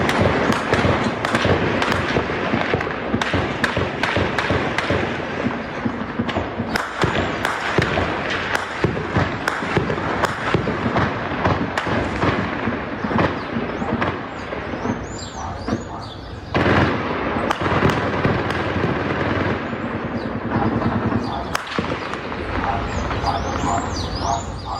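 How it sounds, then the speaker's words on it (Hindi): Gunfire during a police clash with drug traffickers in Rio de Janeiro, Brazil: dense, rapid cracks and bangs burst continuously for many seconds, loud and echoing, with shots overlapping almost without pause. "देखिए आप, गोलियों की तड़तड़ाहट से पूरा शहर गूंज उठा"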